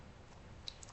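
A single soft click of the Enter key on a computer keyboard, faint and brief against quiet room hiss, with a second lighter tap just after.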